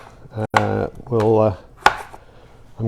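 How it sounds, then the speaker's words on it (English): A kitchen knife cuts a potato into pieces on a board, with a few sharp, separate chops spaced irregularly and heard up close, between short ringing tones. "So I'm cutting the potato into pieces,"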